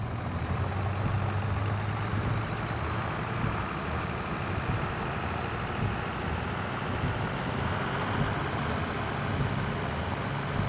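A tractor engine in a realistic farming simulator game holds a steady, unbroken low drone, neither rising nor falling. It sounds close, with no talking over it.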